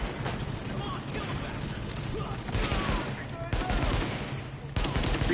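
Gunfire from weapons in the video game The Division: bursts of rapid automatic shots with sharp cracks over a steady background din, moderately loud, with a voice speaking faintly underneath.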